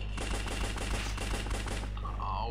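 Rapid gunfire in the top-down shooter Larva Mortus, a dense run of repeated shots with a steady pulse close up, ending with a brief whirring game effect.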